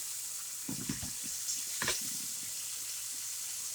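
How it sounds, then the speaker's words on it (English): Swiss steaks browning in a pan, a faint steady sizzle with a few brief bursts of spatter and scraping, close but quiet, no talk. "You're basically browning them and putting like a crust on them."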